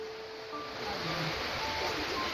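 Heavy rain and running water in Cuba make a steady, broad wash of noise that swells slightly and continues without a break.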